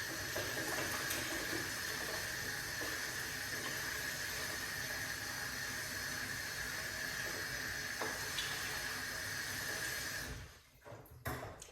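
Tap water runs steadily into a kitchen sink while food is rinsed underneath, a continuous hissing splash that cuts off near the end, followed by a few faint handling clatters.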